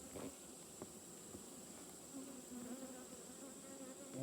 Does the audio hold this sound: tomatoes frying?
no